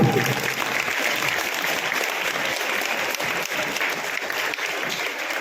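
Audience applause at a school debate event rolls on steadily and fairly loud, a dense wash of many hands clapping with no talk over it.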